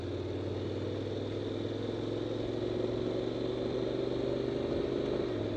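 Motorcycle engine cruising steadily, a continuous mid-pitched hum with a rising whine and a subtle pitch change near the end as it shifts from fourth to fifth gear, without talking.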